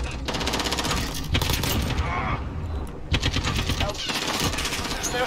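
Rapid, dense automatic gunfire in a Call of Duty shooter on the Shipment map, crackling almost nonstop at close range with only a brief lull partway through.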